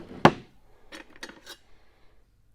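An old hammer clanks against other metal tools: one sharp knock followed by a few lighter metallic clinks, close and fairly quiet, with no speech.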